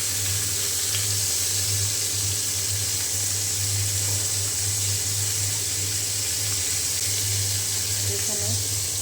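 Pangas fish sizzles as it fries in oil in a pan, a steady, continuous hiss that holds evenly throughout while someone speaks over it.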